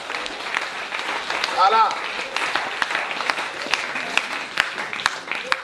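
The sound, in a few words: congregation applauding in church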